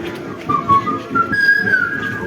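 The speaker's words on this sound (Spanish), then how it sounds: "Ahí está el silbido de nuestro vecino." A neighbour's whistling during a street parade in Huancayo, Peru: a thin sustained tone rising and holding over a steady crowd and street noise, moderately loud without speech.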